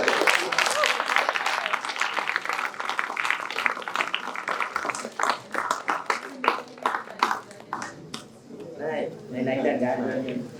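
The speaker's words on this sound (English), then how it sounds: "we may still have a huge round of applause for number 13" An audience at a morning speaking contest applauds a finished speech with loud, dense clapping that thins into scattered individual claps before a voice talks over the tail.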